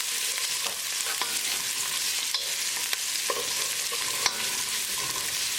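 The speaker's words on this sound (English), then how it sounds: "Now we're going to add ginger and garlic. Mix it. Cook until the raw garlicky flavor is gone." Ginger and garlic stirred as they fry in a pan for a halibut fish curry, a steady close sizzle broken by occasional scraping clicks from the spoon.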